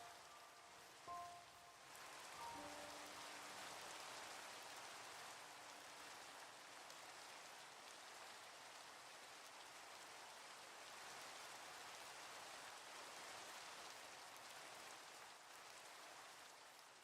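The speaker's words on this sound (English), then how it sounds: "Here comes the rain." Soft, steady rain falls on surfaces in a continuous quiet patter, faint and even throughout with no voices, a brief small clink near the start.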